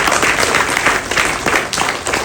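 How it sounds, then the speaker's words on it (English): A round of applause from the audience at a health awareness session, steady, fairly close clapping with no voices over it. "we should give a big round of applause"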